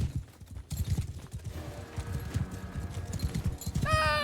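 Horse hooves clip-clopping in the video game Mount and Blade Bannerlord, a quick uneven patter of hoofbeats under battle ambience, with a rising whinny-like tone at the very end.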